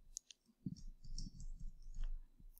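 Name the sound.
computer mouse clicks in software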